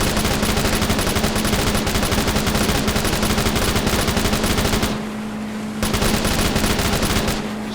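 Video game gunfire in a modded shooter: dense, continuous automatic-weapon bursts that fill the sound, loud and close, with a brief near-silent gap before the firing resumes.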